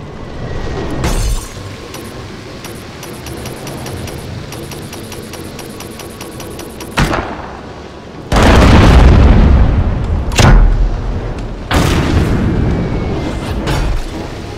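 Ship cannons firing and explosions boom during a naval battle in the ship combat game Abandon Ship, with loud bursts and heavy blasts piling up, rumbling continuously and punctuated by sharp impacts.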